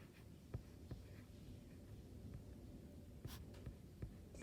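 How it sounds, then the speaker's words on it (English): A pencil eraser rubbing out lines on paper while drawing a Christmas tree, a very faint soft scrubbing with a few light taps, no talking. "we're going to take our eraser and just erase these lines inside."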